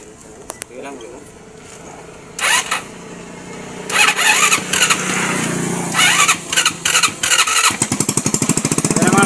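A small motorcycle with a starting fault is cranked several times in stuttering bursts before the engine catches and settles into a fast, loud putter near the end, with people talking throughout.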